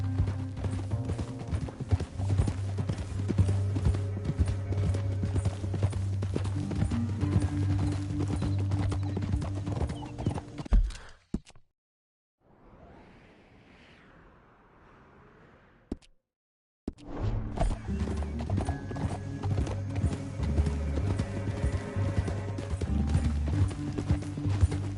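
Loud, rhythmic horse hooves trot steadily over game music in Red Dead, then drop away to near silence for a few seconds before the trotting resumes.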